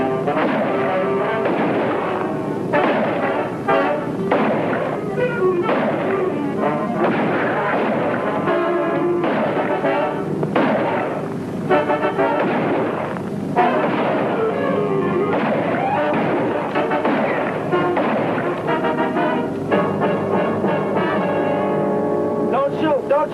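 Shootout in a 1951 Dragnet radio drama, repeated gunshots in dense bursts mixed with loud, urgent voices throughout.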